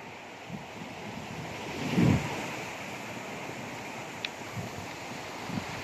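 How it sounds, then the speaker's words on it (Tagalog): Steady wind roars across the microphone on a beach while waves wash and break in the background, with one louder surge of surf partway through. "Malakas din ang hangin mga kamatik."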